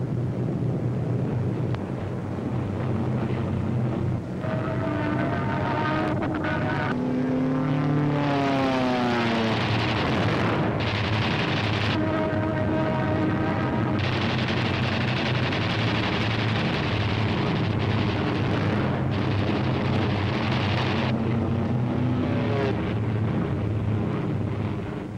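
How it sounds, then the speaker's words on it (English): P-47 fighter planes and German fighters in World War II aerial combat, loud propeller engines roaring continuously, with several diving passes whose pitch sweeps sharply as aircraft streak close by, no speech. "German fighters attempting to intercept a heavy bomber attack are shot down by P-47s."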